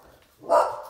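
Indoors, a dog lets out a single short, loud bark at someone out front, after a brief quiet lead-in.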